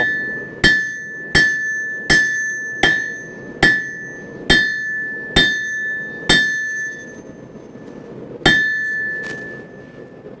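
Hammer blows on hot iron holdfast stock at the anvil, flattening the forged piece: about ten loud, evenly spaced strikes, each with a bright metallic anvil ring that fades before the next.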